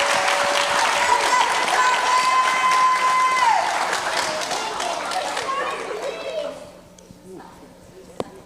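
A conference audience at a summit on returning citizens applauds a panel with sustained clapping over voices. The applause fades out over the final seconds.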